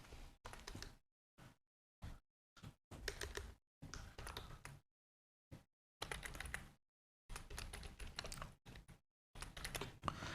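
A URL is typed on a computer keyboard in quick bursts of clicking keystrokes, broken by short silent pauses, close and fairly quiet, with no one speaking.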